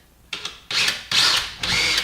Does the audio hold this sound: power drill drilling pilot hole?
yes